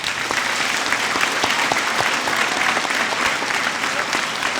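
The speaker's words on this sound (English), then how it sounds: "Please join me in a big round of applause for your teachers and" An audience at a Maple Point school ceremony applauds teachers and graduates, steady dense clapping from a large crowd that fills the whole stretch at an even, loud level.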